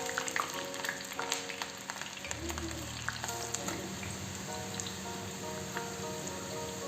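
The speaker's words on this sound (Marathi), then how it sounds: "आता यामध्ये तळण्यासाठी कांदा घालून घेऊया।" Onions frying in hot oil over a medium gas flame for dum chicken, a steady close crackling sizzle that carries through the whole clip, with a brief low rumble partway through as the onions are stirred.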